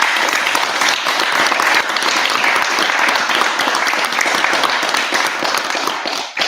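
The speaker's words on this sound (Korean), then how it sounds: "박수 한번 쳐주십시오" An audience at a lecture on character strengths breaks into loud, sustained applause, many hands clapping densely and evenly for several seconds before it tapers off.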